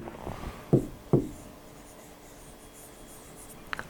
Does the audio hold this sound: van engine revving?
no